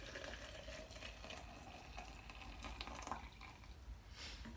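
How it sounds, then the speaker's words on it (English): Water poured steadily into a tea container, filling it with a continuous broad rushing, trickling sound at close range, no voices. "I don't know if there's enough water to fill this."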